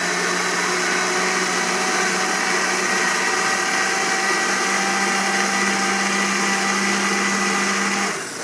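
A Blendtec blender churns thick ice cream, a loud, steady motor whir with a grinding edge that holds for about eight seconds before winding down.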